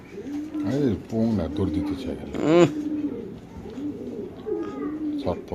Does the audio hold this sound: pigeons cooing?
yes